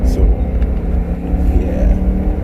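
A BMW E92 M3 fitted with a BimmerWorld X-pipe drives past fast, a loud, close, rumbling exhaust roar held throughout at full strength.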